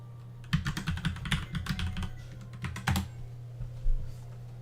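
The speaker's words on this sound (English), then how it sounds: "you guys get to hear my hacker typing" Rapid bursts of keyboard typing on a computer, a flurry of clicking keystrokes in uneven clusters with short pauses, close and fairly loud over a low steady background hum.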